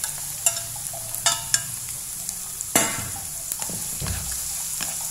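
Tomatoes tossed into a hot pan with sautéed onions, sizzling and frying steadily while a utensil stirs with several scraping clanks, close and alone without talk.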